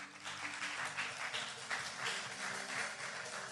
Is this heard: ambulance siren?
no